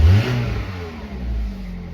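A car engine revs loudly and close, a strong rumbling surge that eases off and then swells again, with no voices.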